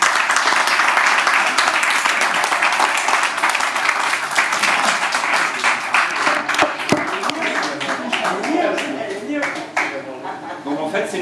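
Audience applause after a slam poetry performance at a small late-night venue in Nice, dense sustained clapping filling the room and slowly thinning, with voices and cheers mixed in toward the end.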